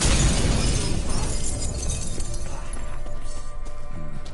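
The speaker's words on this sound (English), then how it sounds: "Gotta be some mirror here you won't shatter." Glass mirror shattering in The Witcher 3: Wild Hunt, a loud crash at the start breaking into scattered tinkling shards that fade over a few seconds.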